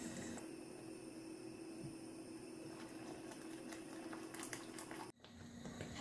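Milk boiling in a pot on the stove, a faint steady bubbling and simmering hiss with a low hum, briefly dipping near the end before resuming.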